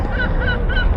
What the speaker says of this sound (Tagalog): may mga narinig na tayong mga ibon